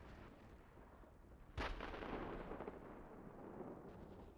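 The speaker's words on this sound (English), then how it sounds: "We're taking fire here." Tank main gun fires once in the Steel Beasts combat game, a single deep boom near the middle followed by a rumbling decay above a constant low background hum, quiet overall and without speech.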